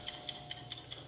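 A game show countdown clock ticks in an even, steady rhythm, five crisp ticks in about a second, clear and close over a low room hum.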